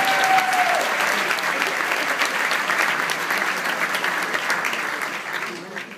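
A World Affairs Council audience applauds in a hall, with sustained, dense clapping from a large crowd that stays loud for several seconds and tapers slightly at the end, joined by a brief vocal note near the start.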